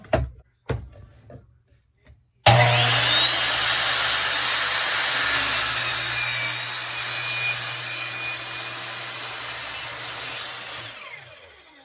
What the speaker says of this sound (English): I'm gonna flip on my Ryobi miter saw here